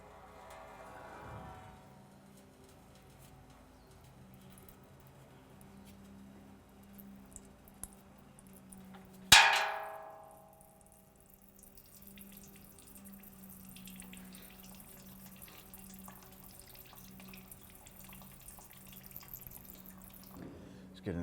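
Coolant draining from a 2001-2005 Honda Civic radiator petcock into a catch can, a steady faint trickle and splash running throughout, with a sharp clunk partway and quiet talk in the background.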